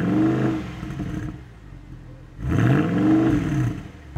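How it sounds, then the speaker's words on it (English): A naturally aspirated V8 engine revs up loudly twice, rising and falling with a deep roar, with a quieter idle between the bursts. "experience the noise of that beautiful naturally aspirated V8"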